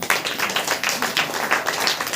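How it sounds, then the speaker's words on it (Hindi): A church congregation claps their hands together at a Saturday worship meeting, a steady run of fairly quick, close claps filling the whole moment with no voices over them. "आमीन, ताली बजाकर"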